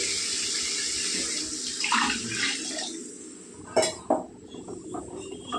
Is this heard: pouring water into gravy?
yes